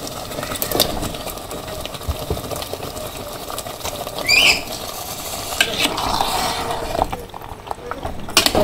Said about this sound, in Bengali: এখন মাংসগুলো দিয়ে দিই।